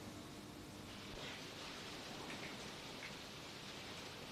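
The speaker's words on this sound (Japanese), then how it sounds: "あら、雨かしら。" Rain falls as a faint, even hiss that holds steady throughout, with no voices over it.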